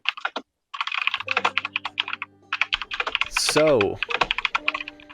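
A computer keyboard is typed on loudly and rapidly, a dense clatter of close keystrokes that runs through most of the moment while a voice talks over it.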